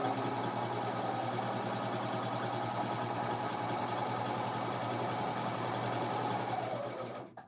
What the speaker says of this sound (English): We're going to do both sides of the shoulder just to secure these stitches in place.